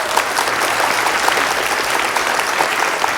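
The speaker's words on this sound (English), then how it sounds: "A huge round of applause for those gentlemen" A dense, even round of applause from an audience at a college arts awards ceremony, honouring senior certificate winners, continuous and fairly loud with no voices.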